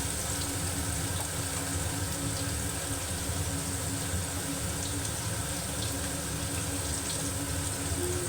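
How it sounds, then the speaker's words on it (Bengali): Water poured into a pan of fenugreek, cumin, coriander, chilli and fennel paste being fried in oil for a katla fish curry gives a steady, continuous hiss and rush that lasts throughout without pause. "এবার আমি একটু জল দিয়ে দেবো"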